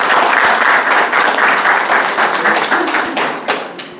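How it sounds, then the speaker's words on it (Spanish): A crowd gives loud, dense applause, a continuous wash of many hands clapping together that tapers slightly toward the end. "Un aplauso a Jesús Bolívar."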